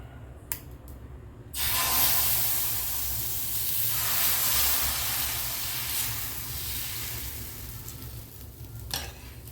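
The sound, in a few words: ragi dosa batter sizzling on hot griddle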